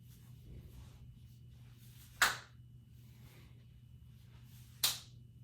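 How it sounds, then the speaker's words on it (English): Two sharp hand claps during a seated Parkinson's exercise class, spaced a few seconds apart over a low steady hum, fairly faint and close. "Give your hands a big clap."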